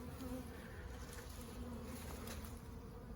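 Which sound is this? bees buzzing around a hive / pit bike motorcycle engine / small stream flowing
bees buzzing around a hive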